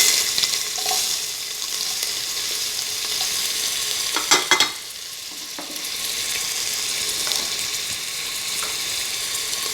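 Onion fries in coconut oil in a pressure cooker, a steady close sizzle with a brief burst of louder stirring and scraping clatter in the middle.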